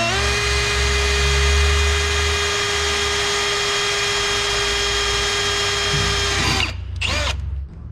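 An electric drill runs at slow speed during a catch can install on a coupe, a loud steady whine with a constant motor tone for several seconds before it winds down and stops near the end.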